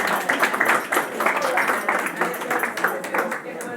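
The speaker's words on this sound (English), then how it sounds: "So I give her a little round of applause." Audience applause for a patina artist at an exhibition opening, a dense wash of many hands clapping steadily for several seconds at moderate loudness, with some background speech mixed in.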